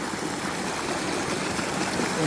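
Water rushes out of a freshly bored tube well under pressure in farm fields, a continuous broad gushing roar, steady and fairly loud across the short stretch.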